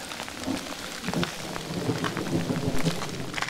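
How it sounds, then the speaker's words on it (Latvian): Steady rain patters densely on surfaces nearby beside the Daugava river reservoir, with scattered heavier drops and a continuous wash of noise throughout. "Bišķi lietutiņš, ne?"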